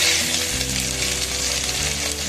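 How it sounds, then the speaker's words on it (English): Beef steaks fry steadily in a pan over a low to medium flame, giving a continuous, fairly loud sizzle with no pauses and no voices. "See how well these steaks are getting cooked."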